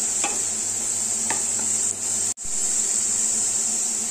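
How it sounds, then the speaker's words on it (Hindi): Onions frying for veg pulao are stirred in a pan, a steady sizzle with a few scraping strokes near the start, then a brief dropout before the hiss resumes alone. "और चलाते रहेंगे। प्याज फ्राई हो गया है"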